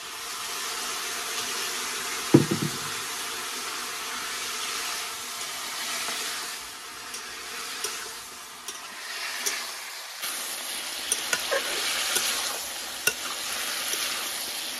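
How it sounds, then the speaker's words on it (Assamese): Jackfruit cooking with a little water in a pan, a continuous steamy sizzle and hiss with occasional stirring knocks against the pan, heard close and without speech. "পানী অকণমানকৈ দি এতিয়া কঁঠালখিনি ধুনীয়াকৈ সিজাই ল'ম"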